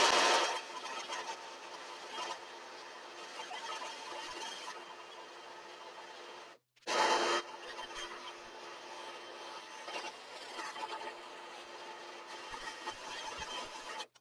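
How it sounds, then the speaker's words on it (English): Handheld hair dryer blowing through a section of hair, a steady whirring rush that cuts out briefly midway and then resumes, moderately loud and close. "then we're just going to blow dry through"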